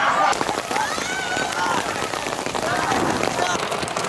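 Hailstorm in Thornton, Colorado, a dense, loud, continuous clatter of hailstones pelting surfaces, with excited voices shouting over it.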